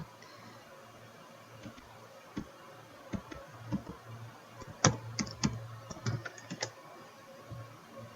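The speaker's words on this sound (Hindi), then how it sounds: "नीचे हम सपोर्ट भी टाइप कर देता हूँ" Keys on a computer keyboard are typed in short irregular bursts, quiet at first and then a cluster of sharper, closer clicks, over a faint steady background hum.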